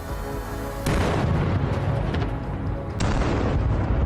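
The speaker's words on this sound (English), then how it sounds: "There was a massive explosion." A loud, deep explosion of a drone strike in the Russia-Ukraine war booms out, followed by rumbling, then a second heavy blast hits near the end.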